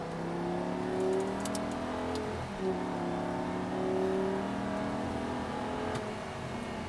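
An Audi R8 GT accelerating on a race track, its engine a steady whirring drone with rising tonal sweeps as it pulls, loud and continuous with no speech over it.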